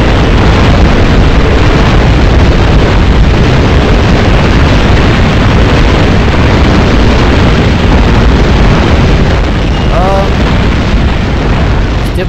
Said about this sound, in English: they bomb me?